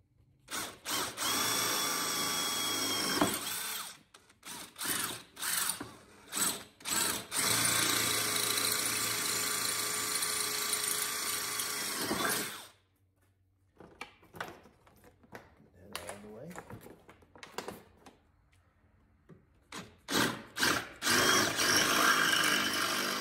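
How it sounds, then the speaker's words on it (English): A power drill bores a hole in a four-wheeler to mount added lights, running in long whining bursts with brief pauses. It stops for a stretch, then starts again with short stuttering pulses. "So what I'm gonna do is drill a hole through this. I'm gonna drill a smaller hole"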